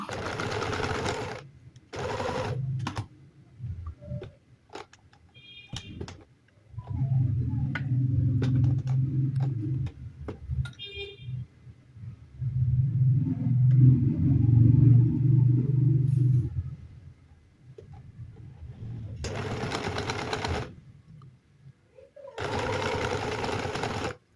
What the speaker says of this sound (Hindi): मैं यहाँ पर बूट पाइपिंग की जड़ पे सिलाई लगा रही हूँ।